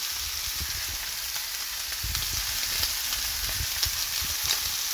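Steak frying in a pan with oil, thyme and garlic, a constant bright sizzle with occasional low stirring thumps and spatters, close and uninterrupted by talk.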